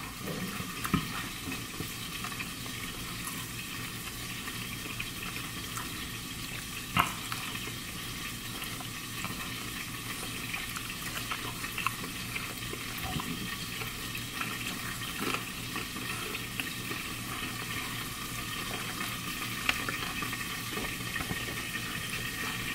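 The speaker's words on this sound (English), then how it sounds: "this is what the other wings look like. As you can see, they're still right on the stove cooking" Chicken wings frying in a pan on a stovetop, a continuous soft crackling sizzle with occasional faint pops and clicks, even and moderately close throughout, no talking.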